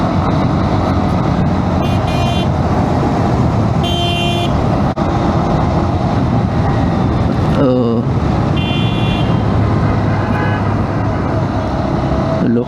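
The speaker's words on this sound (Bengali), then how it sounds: "লোকটা হর্ন দিতেছে" On a busy road near Purbachol 300 Feet, heard from a Honda Hornet 2.0 motorcycle ride, vehicle horns give several short, bright honks over a constant rumble of engines and traffic, with a brief voice in between.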